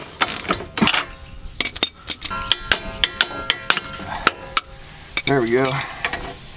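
A wrench ratchets bolts loose on a Jeep steering stabilizer, with a run of evenly spaced, crisp clicks after some clanking, followed by a squeaking turn, close up, and someone speaks briefly.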